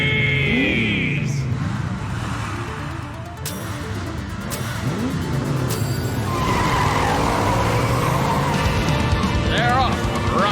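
Battle cars launching off the starting line in a death race, tires skidding and squealing with engines revving, loud and close, with commentators talking over the noise.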